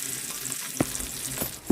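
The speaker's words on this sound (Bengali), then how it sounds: "এরপর আমি তেলের মধ্যে দিয়ে দেবো মাছগুলোকে আমি আর একবার ভেজে নেব।" Fish sizzling in hot oil in a kadai during home cooking for a puja day, a steady crackling hiss with a few louder pops and stirring knocks, fairly close and without talk.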